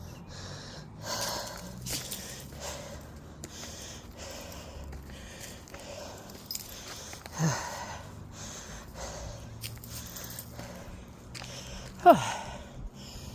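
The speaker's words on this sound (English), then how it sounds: "My dog's frantically sniffing something." Rapid close sniffing and snorting from a dog in a graveyard, short bursts repeating in quick irregular succession, with a couple of louder snorts.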